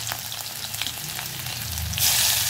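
Curry leaves, garlic and chillies fry in hot oil for besan vada rassa, a dense steady sizzle that swells louder near the end, close and continuous with no voice.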